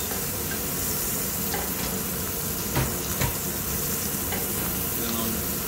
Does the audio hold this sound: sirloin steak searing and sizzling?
yes